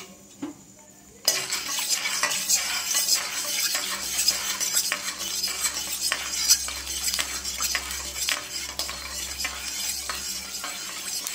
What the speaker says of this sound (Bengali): তো চলো আর কিছু ফুচকা ভাজি